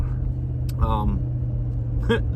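Steady low engine rumble inside a pickup truck cab while driving on the road, constant and close beneath a man's brief speech.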